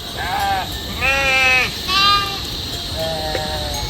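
Sheep on a Himalayan trekking trail near Bamboo on the Annapurna route bleat several times, their wavering calls close and clear over a steady outdoor background.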